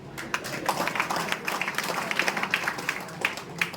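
An audience at a network marketing and direct selling seminar claps together, a dense, steady patter of many hands sustained for several seconds with no talk over it.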